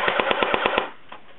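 A Kirenex M4 airsoft assault rifle fires on full automatic, seven rapid evenly spaced snapping shots in a short burst, then a single faint pop after a brief gap.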